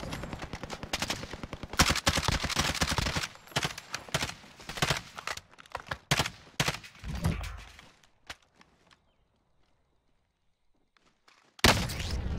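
Gunfire crackles in the Warzone video game, with rapid bursts of automatic fire and sharp single sniper cracks. The shots come loud and dense for about eight seconds, fall quiet, then return in a final burst.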